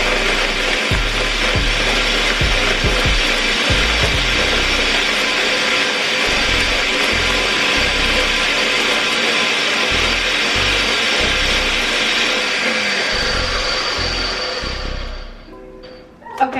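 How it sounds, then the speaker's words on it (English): A countertop blender whirs steadily as it grinds rice with cinnamon sticks for homemade Mexican horchata, a loud continuous motor roar with gritty churning that runs unbroken for about fifteen seconds before winding down and stopping. "So then you're just gonna go ahead and blend this."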